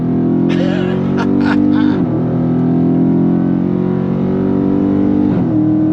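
A Dodge Charger Scat Pack engine roars steadily at high revs, with brief shifts and whines near the start, loud and close throughout.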